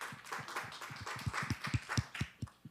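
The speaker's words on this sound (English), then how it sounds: "Can we give Dr. Posey a round of applause" Audience applause after an introduction at a panel session, a steady patter of clapping hands with sharper individual claps standing out, moderately close and without talk.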